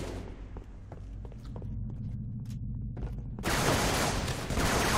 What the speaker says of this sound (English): I better shoot him